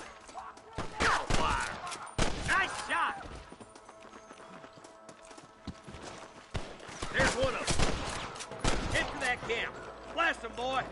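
Bursts of Red Dead Redemption gunfire crack in two loud volleys, early and again later, mixed with hoofbeats and game noise as a voice talks over it.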